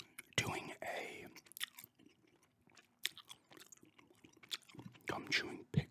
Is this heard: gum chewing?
yes